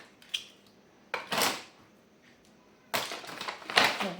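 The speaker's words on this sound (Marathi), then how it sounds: "कॅरी बॅगमध्ये घालून आपण त्याला कुटून घेऊया" Butterscotch candy pounded inside a plastic carry bag for homemade ice cream, heard as a few separate crunching, rattling bursts of blows with short quiet gaps between them.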